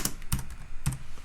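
A computer keyboard is typed on in a few sharp, close keystrokes, irregularly spaced with short gaps, distinct clicks heard alone in a quiet room.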